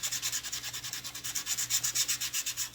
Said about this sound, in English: I'm just going to quickly run a piece of sandpaper over the holes